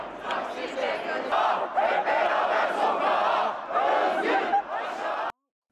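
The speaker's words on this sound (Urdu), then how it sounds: "وہ نعرے لگا رہے تھے، اماموغلو تم اکیلے نہیں ہو، ہم سب گرفتار ہیں" Protest crowd in a Turkish street rally chanting slogans in unison, a dense, loud mass of voices rising and falling in rhythmic bursts for about five seconds before cutting off abruptly.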